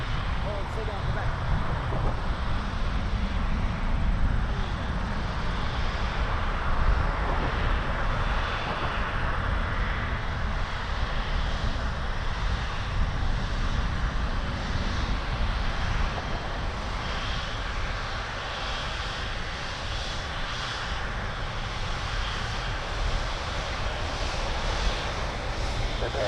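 An Air Canada airliner rolls for takeoff on runway 23 at Toronto Pearson, a broad, steady jet-engine roar filling the whole stretch, with a voice talking over it.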